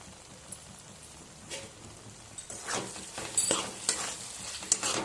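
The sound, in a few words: stirring fried spice paste with sugar in pan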